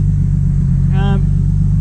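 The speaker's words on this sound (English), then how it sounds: "let's wind down the windows and see what this car is like to drive" A Nissan R33 Skyline drives along with its windows down, a steady low engine rumble filling the cabin throughout, while a brief voice-like tonal sound rises over it near the middle.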